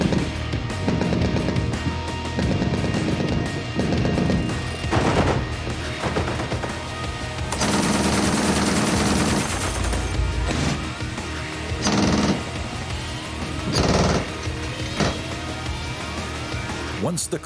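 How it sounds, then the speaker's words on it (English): Shipboard guns on the German frigate Hessen fire freely during an Atlantic combat drill, bursts of loud rapid gunfire standing out against a constant roar of wind and engine noise. "the commanding officer orders all guns on board to shoot freely."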